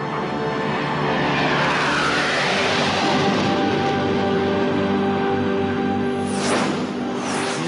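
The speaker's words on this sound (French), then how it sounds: "le moteur qui se trouve derrière son siège est un puissant réacteur d'avion de chasse" The Spirit of America, a land speed record car driven by a fighter-jet engine mounted behind the driver's seat, roars loudly and steadily at close to 1200 km/h, with a rising whoosh as it sweeps past near the end.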